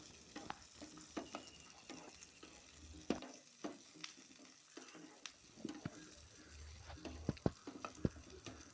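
Onion, garlic and chili sauté in ghee with a faint, steady sizzle, punctuated by soft scattered taps and clicks of a spoon stirring the pan.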